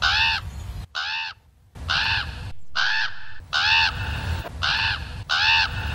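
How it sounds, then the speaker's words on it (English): A crow cawing over an establishing shot of the power plant in The Simpsons, seven loud, harsh caws in a steady rhythm with short gaps between them. "In nearly every establishing shot of the power plant, a crow can be heard."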